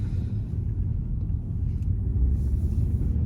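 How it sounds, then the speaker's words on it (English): A 3.0 litre supercharged V6 petrol engine in a Jaguar XJ X351 Portfolio gives a steady, deep low rumble while the car moves slowly through a car park, with no other sounds on top. "it's a 3-litre V6 supercharged petrol engine"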